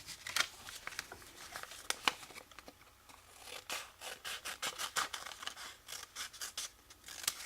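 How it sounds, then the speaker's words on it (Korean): Scissors cut through folded origami paper for a large paper flower, giving a close, crisp run of rapid snips and papery crinkles with uneven rhythm. "중간에 들어갈 것은 이렇게 펼쳐서 중심선까지 접어서 그냥 잘라줍니다"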